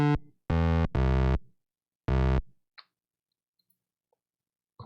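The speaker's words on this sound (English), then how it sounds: "We've got our square pulse wave. It's kind of messed up." NES-style square pulse wave synth tone at 25 percent duty, three loud buzzy sustained notes, the first two back to back and a third after a short pause, with faint clicks between.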